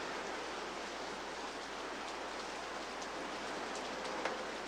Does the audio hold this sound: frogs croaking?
no